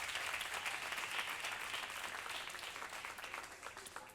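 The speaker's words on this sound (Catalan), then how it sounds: "un fort aplaudiment per a Por si te has olvidado. De Pau Llopis." Sustained applause from a crowd at a short film festival closing gala, steady dense clapping that fades slightly toward the end, with no talking.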